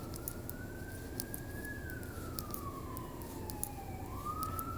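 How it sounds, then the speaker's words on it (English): Police car siren going by outside, a faint single wailing tone that rises and falls slowly over a steady low background hum, with a few soft clicks near the microphone. "police car going by outside"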